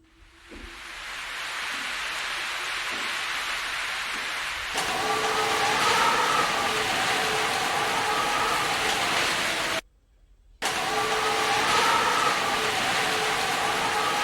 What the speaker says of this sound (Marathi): बघा मित्रांनो किती पाऊस आहे